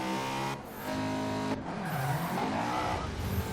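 A turbocharged, slammed Honda S2000 show car in a racing video game, its engine revving loudly through gear changes while tires squeal and skid in steady, close bursts with no talking.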